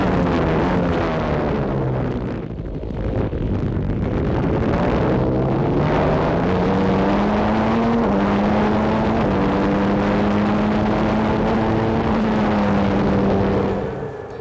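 Formula 1 cars from the 1993 season racing past, a loud continuous high-pitched engine whine whose pitch rises and falls through gear changes, heard without any voices.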